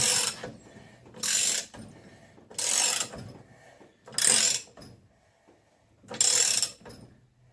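Ratchet tightening a Volvo Penta trim tilt unit held in a vise: five separate bursts of clicking at a steady pace, close and fairly loud, with short quiet gaps between them.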